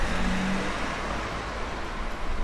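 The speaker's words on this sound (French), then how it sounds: "Voiture." A car passes along a street on a film set, a broad, steady road roar that stays fairly loud and close throughout.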